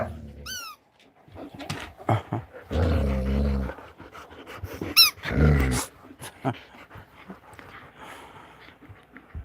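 Dogs playing with a puppy indoors, with rough growls, panting, yips and high squeaky whines in uneven bursts over about nine seconds, close by.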